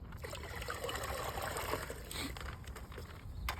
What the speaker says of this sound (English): it just drips right into the bag